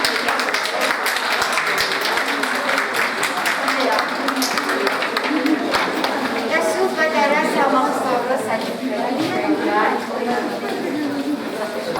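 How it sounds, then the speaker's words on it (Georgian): Audience applause fills the room in a steady, dense wash of clapping, with voices and chatter mixed in throughout. "ძალიან მინდა, რომ აი თქვენი აპლოდისმენტები"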